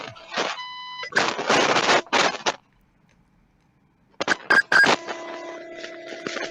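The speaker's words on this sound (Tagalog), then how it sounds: "May nag-beep for some reason." A Star Wars lightsaber toy gives off electronic beeps and chirps in short bursts, a few quick tones, then a pause of near silence, then another cluster of beeps ending in a steady electronic tone.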